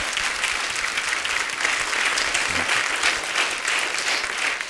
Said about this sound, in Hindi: जोरदार तालियां हो जाए एक बार हमारे कलाकारों के लिए।